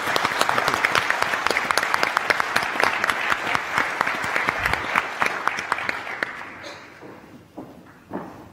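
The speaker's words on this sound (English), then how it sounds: "please join me in a final round of applause to Malcolm Turnbull and our speakers" Sustained audience applause for Malcolm Turnbull and the other speakers at an in-conversation event, dense and lively with crisp individual claps, thinning out and fading near the end with a few scattered claps left.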